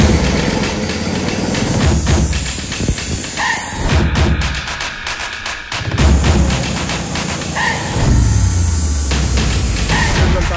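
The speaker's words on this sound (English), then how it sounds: "Third gear, and I'm gonna give it gas and spin the axle." Small gas engine of a mini Jeep revving loudly in third gear to spin an axle, a close throbbing roar that rises and falls in several surges, with brief dips and mechanical clatter between them.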